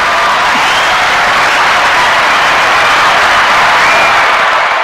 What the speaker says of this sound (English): I got you a round of applause for that.